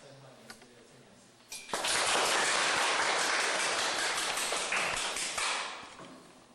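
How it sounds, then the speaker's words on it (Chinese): An audience in a religious hall breaks into loud, sustained applause to welcome a lecturer, rising abruptly after a few faint taps and holding steady for several seconds before tapering off. "那我们现在掌声欢迎这个郑讲师。"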